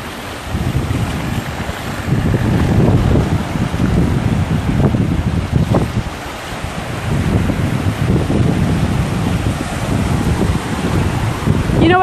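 Strong wind blows across a beach on Boracay, buffeting the microphone in a constant rough roar with gusty swells, mixed with a faint wash of surf.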